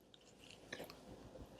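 Someone chews a soft, chewy gluten-free chocolate chip cookie made with allulose, giving quiet, close, moist mastication with a few faint crunchy bites over about a second and a half.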